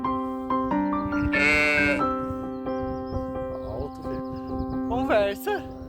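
Sheep bleat on the Isle of Skye near Neist Point, several loud wavering cries close by, with a voice speaking and outdoor ambience underneath.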